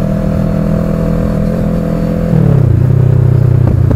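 Motorcycle engine while riding, a loud close drone that shifts pitch partway through as the bike changes speed, with no talking.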